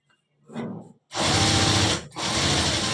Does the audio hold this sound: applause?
no